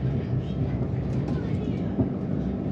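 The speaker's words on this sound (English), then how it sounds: "There's one of the Evero trains." An Avanti West Coast train passes on the West Coast Main Line as a steady low rumble and roar, continuous and fairly loud for the few seconds heard, with no clear speech.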